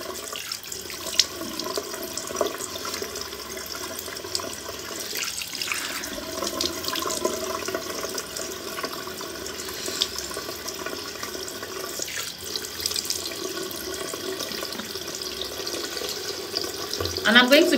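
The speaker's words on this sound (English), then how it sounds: "So I'm just washing off the egg white." Tap water runs steadily into a bathroom sink while egg white is washed off a face, a continuous close splashing hiss with small irregular splashes from the hands.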